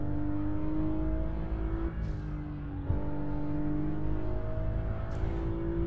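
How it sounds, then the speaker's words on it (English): Car engine in Assetto Corsa revving hard, loud and close, with crisp upshifts that briefly cut the pitch before it climbs again, and a short tire squeal. "y'all hear the upshifts on this thing? The upshifts are just as crispy."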